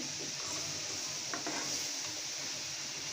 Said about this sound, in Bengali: এভাবে নেড়ে চেড়ে শাকটা ভাজি করে নেবেন।